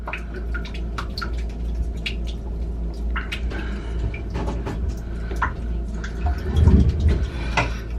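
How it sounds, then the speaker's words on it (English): Water trickles and drips in close by as it leaks into a vehicle during old transmission removal, with irregular splashes and gurgles over a low rumble, a brief louder slosh near the end. "And now it's starting to leak water in already."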